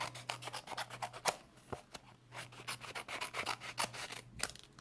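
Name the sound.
trimming paper with scissors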